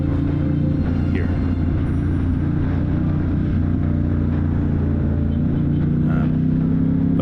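A Ducati Diavel motorcycle with a full Termignoni exhaust rumbles on a descent of Pikes Peak in Colorado, a steady, deep, loud engine drone with wind noise that holds without pause.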